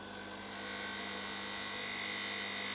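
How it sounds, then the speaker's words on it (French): Glass pressed gently against a grinding wheel during manual lapidary work, a steady close whirring hiss with a high tonal hum that holds evenly throughout. "je vais avoir un contact très doux du verre sur la meule"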